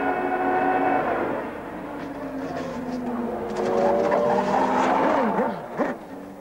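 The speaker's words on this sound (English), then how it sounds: "Brack in number one is alongside Müller and forces him towards the verge. Inevitably, they collide." Formula 3000 race cars at Hockenheim in a 1996 championship race, engines roaring and shifting pitch as two cars run side by side and collide, with a sharp change in engine note near the end under loud race ambience.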